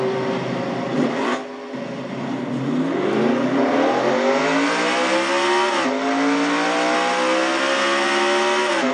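Race car engines roar continuously in a sim racing league event on a stock car oval, with a dense layered drone of several cars and rising pitch sweeps as engines accelerate, loud throughout with a brief dip near the start.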